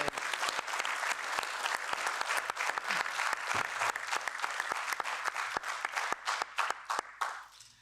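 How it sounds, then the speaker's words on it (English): Sustained audience applause in a hall at the European Parliament, dense and steady for several seconds before thinning out toward the end, with no talking over it. "I just want to give those guys a round of applause for all the hard work they do"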